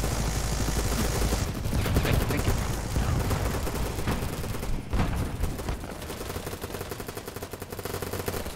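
Gunfire from an enemy shooting back in the video game BattleBit Remastered: rapid, overlapping automatic bursts that stay loud and dense throughout, with brief gaps between volleys.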